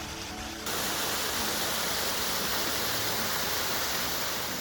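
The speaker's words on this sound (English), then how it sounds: "you'll find this gorgeous waterfall" Steady, dense rushing roar of a waterfall in Elliott County, Kentucky, loud and continuous, a brief quieter moment at the very start before the full wash of water.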